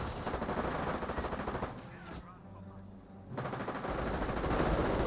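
Rangers firing Thompson submachine guns in the World War II strategy game Company of Heroes, dense overlapping bursts of automatic fire at mid distance that ease off briefly in the middle and then resume.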